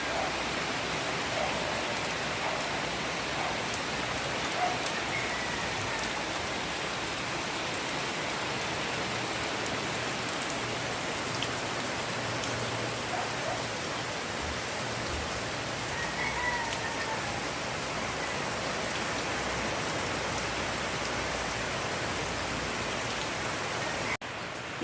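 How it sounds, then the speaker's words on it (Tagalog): Steady, dense hiss of heavy flood-season rain falling without letup, broad and even throughout, with no voices. "Ulan pa rin at ulan."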